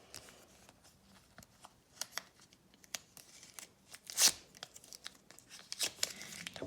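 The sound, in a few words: tearing open a paper packet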